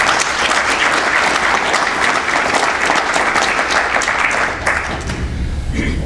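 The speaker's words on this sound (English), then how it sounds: "Everybody, a big round of applause for our volunteer panelists." Audience applause for volunteer panelists at an education panel, loud sustained clapping from a room full of people that carries steadily for over four seconds, then thins and trails off near the end.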